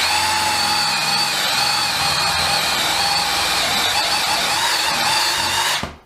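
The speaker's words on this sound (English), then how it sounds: "No, we're in reverse." A DeWalt Atomic DCD709 cordless combi drill whirs in reverse at high speed, a loud steady motor whine held close for several seconds before it stops abruptly.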